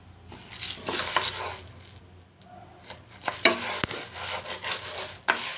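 Sorghum grains being dry-roasted and stirred in a pan, giving off bursts of dry scraping and light rattling that come and go in uneven strokes, close and fairly quiet, with no talking.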